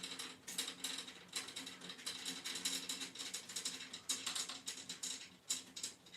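Drum key clicking and ratcheting as it turns tension rods on a six-lug drum while a new drumhead is tuned, a steady run of light, close mechanical ticks with short pauses.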